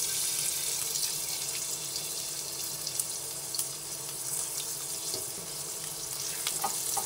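Chopped onions tossed into hot oil in a wok, giving a steady, close, hissing sizzle that runs evenly throughout with small crackles and no talking.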